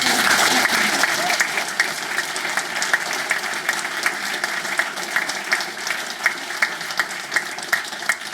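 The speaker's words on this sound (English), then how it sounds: "So please, one last big round of applause." Audience applause for a debate panel on whether Channel 4 should be privatised, a steady broad wash of clapping throughout with sharper individual claps standing out toward the end.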